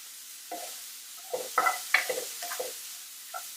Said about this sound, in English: The idea here is just to get your sausage nice and brown